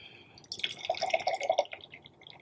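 Beer from a big can of Junkyard Brewing Royale With Cheese poured into a glass, a faint, brief gurgling splash of liquid that starts abruptly and trails off.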